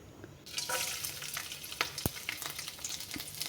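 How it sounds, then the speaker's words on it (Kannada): Ginger, green chilies and onion fry in oil in a pan. After a quiet start, a bright, close sizzle rises and holds, broken by a sharp metal clink and light stirring scrapes. "ನಾನೊಂದು ಬಾಣಲೆಗೆ ಎಣ್ಣೆ ಹಾಕ್ಬಿಟ್ಟು ಅದಕ್ಕೆ ಶುಂಠಿ ಹಸಿಮೆಣಸಿನ್ಕಾಯಿ ಈರುಳ್ಳಿ ಹಾಕಿ ಫ್ರೈ ಮಾಡ್ತಾ ಇದ್ದೀನಿ"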